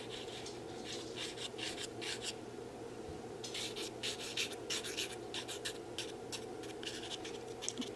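A toothpick pokes and scrapes at a clogged miniature funnel while a tiny terrarium is assembled, giving repeated soft scratchy rasps in short bursts close up, with no talking.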